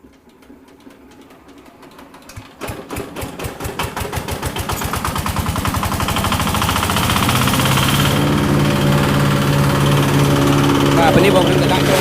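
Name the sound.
engine-driven grass chopping machine grinding cattle fodder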